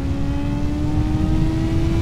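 A BMW M 1000 XR motorcycle engine holds a high, steady, whining rev above 8000 rpm, loud and close throughout the short stretch with no voices.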